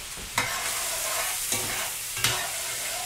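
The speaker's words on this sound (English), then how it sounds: "as my butter melts, I'm going to go ahead and dump my onions in there" Onions fry in melted butter with a steady close sizzle, broken by three scraping stirs of a utensil against the pan.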